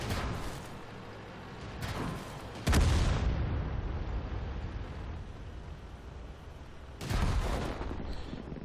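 Artillery shots from a self-propelled gun in World of Tanks, several distant booms with a louder, closer blast in the middle and another toward the end, over a quiet rumbling background.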